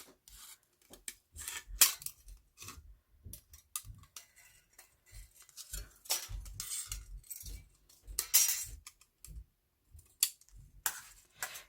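Scissors or snips work through an upcycled aluminum soda can in a rapid series of short, crisp snipping and scraping bursts, close and fairly loud, with no talking.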